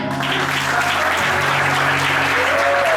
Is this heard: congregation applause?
yes